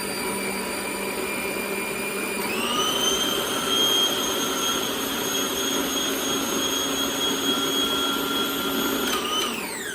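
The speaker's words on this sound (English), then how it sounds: "it's blending until it's a lovely smooth creamy mixture" A blender whirs loudly and steadily while blending a butter chicken mixture toward a smooth creamy consistency, its motor pitch shifting up after a couple of seconds and dropping again near the end, with no talk over it.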